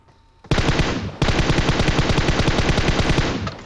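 Sustained automatic fire from an M249 machine gun in a shooting video game, loud and close, with a brief pause near the start and then a long unbroken rapid burst of rattling shots.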